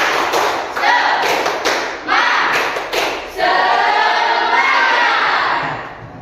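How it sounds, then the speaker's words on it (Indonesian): A classroom of students does a rhythmic spirit clap, sharp grouped claps and thumps in a patterned beat, then breaks into loud children's shouting and cheering near the microphone. "Tepuk semangat."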